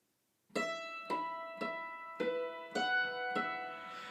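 Seven or so struck hammered dulcimer string notes, fingers on the Delrin only partly muting them, ring out in a steady rhythm, each with a bright attack and sustained tone, played alone without any talking.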